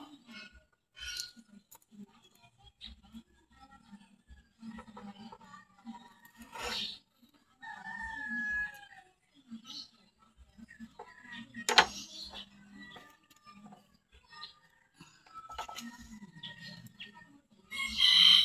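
Backyard chickens kept as fowl: roosters crow in drawn-out calls and hens cluck intermittently at moderate distance, with scattered rustling and soft handling noises between the calls.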